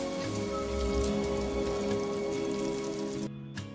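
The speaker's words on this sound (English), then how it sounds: "I wish the rain would stop just once." Steady, dense rain patters heavily on surfaces, a continuous close wash of drops that drops off abruptly near the end.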